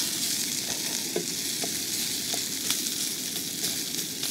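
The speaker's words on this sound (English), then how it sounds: "there comes the bacon, sizzling already" Big chunks of fatty bacon sizzle in a hot pan with a continuous loud crackling hiss, broken by a few sharper pops and spits.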